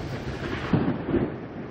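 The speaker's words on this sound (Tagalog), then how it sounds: "Pasado 2:00 ng hapon nang bumuhos ang malakas na ulan na may kulog at kidlat." Heavy afternoon rain during a thunderstorm with thunder and lightning, a steady dense roar of downpour with a low rumbling swell in the middle, close and continuous.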